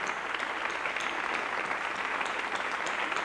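Sustained applause from a church worship audience at a gospel music event, steady dense clapping filling the whole stretch at moderate distance with no clear voices on top.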